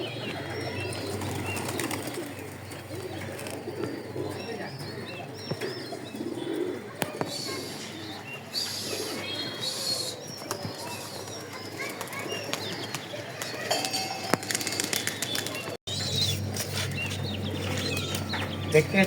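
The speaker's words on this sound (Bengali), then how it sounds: "আর সব কবুতর দেখতে এখন ঘরে ধান পড়েছে, ওগুলো দেখছে" Pigeons at a rural household loft coo and flutter their wings on a very hot day, a steady close chorus of soft murmuring calls with scattered wing flaps over a constant low hum.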